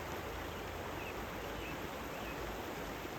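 Water rushes steadily and continuously, a dense even hiss of a flowing brook with no pauses or voices.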